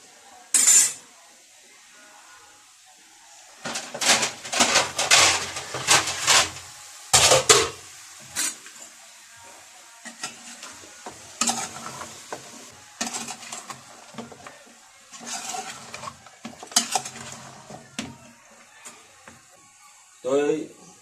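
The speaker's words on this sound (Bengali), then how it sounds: "তেলের মধ্যে দিয়ে ফেলাই বেগুন, এখন এটার ভিতর দিয়ে বেগুন হসাইম।" Eggplant dropped into hot oil for a Chittagong-style dry fish curry, heard as clattering spatula scrapes and clinks against the pan in irregular bursts, with a voice talking intermittently between them.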